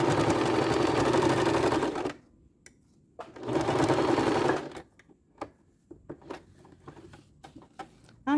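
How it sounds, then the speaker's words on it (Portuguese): A sewing machine runs straight safety stitches on a school pencil case, two loud sustained bursts of rapid stitching split by a pause, then scattered handling clicks and taps. "Eu mudo o botão da máquina pra agulha vir pra direita. Daí, eu vou costurar aqui."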